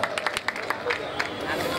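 Scattered clapping from an audience at a Bengali prize-giving ceremony, with sharp, uneven claps mixed into crowd murmur and voices.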